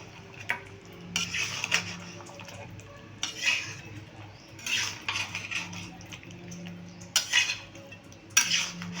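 A metal spoon repeatedly scrapes and clanks against a pan while chilli chicken is stirred, the strokes coming in irregular bursts over a soft low sizzle on a low flame.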